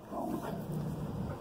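Two dogs on alert, watching a puppy roaming across the street, whimper and let out soft barks, faint and somewhat distant, with no one talking.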